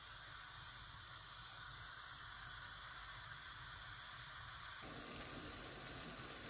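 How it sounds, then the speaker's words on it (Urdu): Water coming to a boil in a pot for rice, a steady faint hiss and bubbling wash throughout, with a slight change in texture partway through, no voices. "پانی کو ابال آ رہا ہے."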